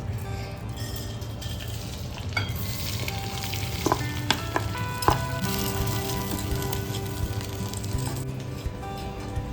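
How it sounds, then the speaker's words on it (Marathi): Rice grains roast in hot oil in a wok, giving a loud continuous sizzle close by, broken by scraping stirs and occasional metallic clinks of a spoon against the pan. "कढईमध्ये मी तेल घातलं आता ह्याच्यामध्ये आपण हे तांदूळ भाजून घेणार आहोत"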